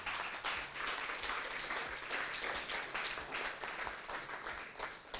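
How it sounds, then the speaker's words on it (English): An audience applauds the entrepreneurs at an accelerator program's final presentations: dense, steady clapping from many hands that fills the room and continues throughout without talking. "let's give them a round of applause."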